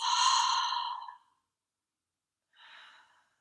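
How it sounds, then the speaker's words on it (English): One slow breath cycle during guided meditation: a long, close exhale through the mouth, a pause of silence, then a softer inhale through the nose. "inhaling through the nose, exhaling through the mouth"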